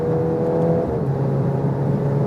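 A VW Golf R Mk8 special edition with 333 hp accelerating on the Autobahn, its engine giving a steady loud whirring drone that shifts pitch partway through, heard from inside the car without talk.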